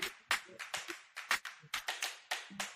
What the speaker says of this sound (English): We clapping out.